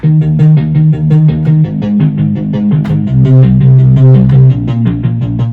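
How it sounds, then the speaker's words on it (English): Arpeggiated synth notes from a small keyboard in a bedroom setup patter in quick, even succession, bright plucky tones cycling over a sustained low layer, loud and close. "I really love adding arpeggiated synth sounds like this."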